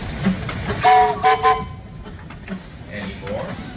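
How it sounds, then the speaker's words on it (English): A steam whistle on an antique steam engine at a steam power show sounds several short, loud, tonal blasts in a row, with crowd noise and voices around it. "Clayton, any whistles"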